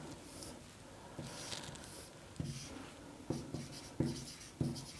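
Pen scratching on paper in short bursts, with several separate strokes and taps spread across the clip, close and fairly quiet with no talking.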